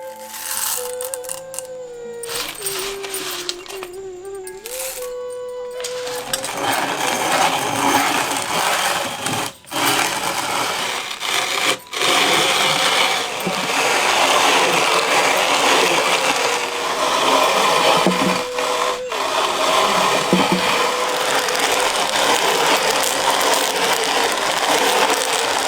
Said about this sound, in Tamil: இப்படி ஆற வச்ச காப்பி கொட்டைகளை இப்ப நல்லா அரைக்க ஆரம்பிச்சிருவோம்.